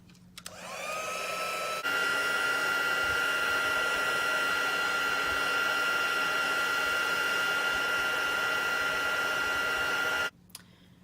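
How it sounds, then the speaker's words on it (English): An embossing heat gun blows hot air in a steady, close whine that starts up, grows louder after a moment, then runs evenly for about eight seconds before cutting off, with no talking. "And I'm just going to heat that up with the heat tool."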